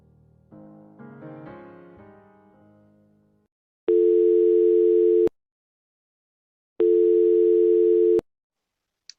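Two long steady tones, each about a second and a half, with a pause between them, ring out loud and clean on a telephone line after a short burst of dialing or music as a call is placed.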